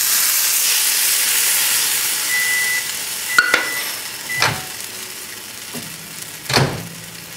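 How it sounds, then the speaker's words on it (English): Hot fish stock poured into a roux for crawfish etouffee, a steady loud steamy hiss with a few stirring knocks and clinks of a utensil against the pot. "I'm adding the fish stock."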